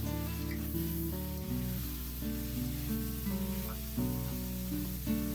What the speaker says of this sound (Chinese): 加点盐，接着翻炒。